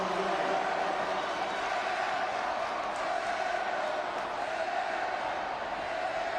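A basketball arena crowd at a 2004 state boys' high school tournament game jeers an airballed free throw, a steady, far-off roar of many voices that holds constant throughout.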